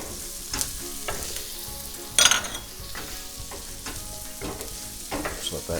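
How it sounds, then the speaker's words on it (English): Half a minced shallot and two cloves of sliced garlic fry in a pan with a steady, close sizzle, broken by a few louder stirring scrapes and pops. "First thing we're going to go in with is half a minced shallot, as well as 2 cloves of sliced garlic."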